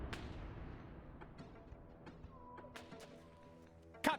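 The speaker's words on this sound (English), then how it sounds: "Rounds landing all over." Artillery rounds land in a World War One video game, with a deep booming rumble decaying at the start, faint scattered distant thuds after it, and a sharp close impact near the end.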